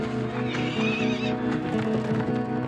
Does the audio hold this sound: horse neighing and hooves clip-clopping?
yes